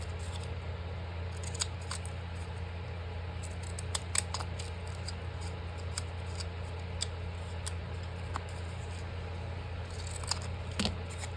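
Paper being cut with scissors: quiet, scattered snips and crisp little clicks over a steady low hum, with a short cluster of cuts near the end.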